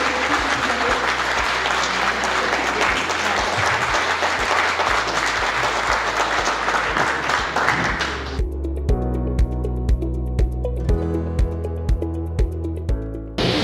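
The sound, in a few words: audience applause for Éric Badouel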